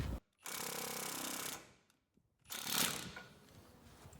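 An air hammer pounds a rusted, stuck trailer hitch in two loud sustained bursts of rapid metallic hammering, separated by a short pause.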